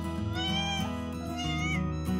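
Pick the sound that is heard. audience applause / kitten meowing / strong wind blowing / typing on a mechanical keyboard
kitten meowing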